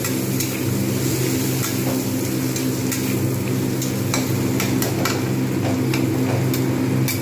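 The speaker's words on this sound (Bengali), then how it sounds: "আলুগুলো আমি কিন্তু এর সঙ্গেই ভাজবো।" Potato pieces fry with bitter gourd in fish oil in a pan, a loud, steady sizzle running throughout, broken by occasional scraping and stirring clicks from a utensil.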